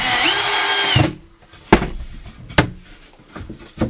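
A power drill bores into the bottom piece of an overland trailer fitting, a loud high whine for about a second that then stops, followed by several sharp knocks and thunks.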